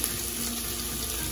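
Water poured onto dry cornmeal in a pot for polenta, a steady hissing, splashing stream that runs without break, close by and with no voices.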